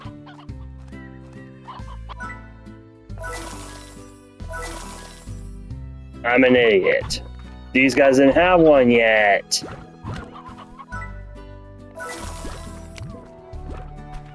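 Chickens in the Slime Rancher video game cluck in a couple of loud, squawking bursts over steady background game music, with a person talking in between.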